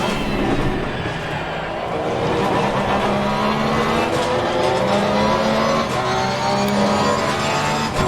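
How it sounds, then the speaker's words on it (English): Race car in Assetto Corsa Competizione at Zolder, the engine droning steadily at high revs with shifting tones while the tires strain for grip, loud and continuous throughout. "You can just hear how the car is screaming for grip."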